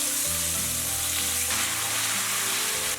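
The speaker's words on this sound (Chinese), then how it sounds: "锅中倒入食用油，油温4、5成热，下入肉丝。" Pork strips hit hot oil in a wok at moderate heat and sizzle loudly and continuously up close, with a quick stir at the start and brief scraping near the end. Ginger and bean paste go in next.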